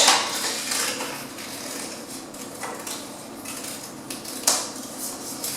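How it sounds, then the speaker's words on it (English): Scissors snip around a large paper circle being cut out, with close, crisp metallic clicks and paper rustling throughout, strongest at the start and in a sharp burst near the end. "I'm cutting around my big circle first because I think that's the quickest way to cut it all out"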